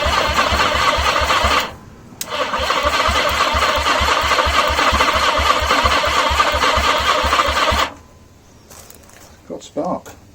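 A 1980 Yamaha XJ650 motorcycle engine runs loud and steady with a rapid, even pulsing idle, dips briefly near the start, then cuts off abruptly and leaves near silence with a few faint knocks.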